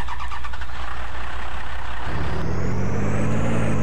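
A Nissan Patrol 4x4 engine in the Spintires off-road driving game rumbles loud and steady, then shifts to a deeper, harder-working drone partway through, with a whining tone rising above it.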